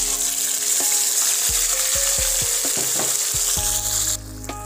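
Ground masala paste sizzles loudly in hot ghee in a pan, a steady dense hiss with a few soft knocks from stirring before the frying quiets abruptly near the end.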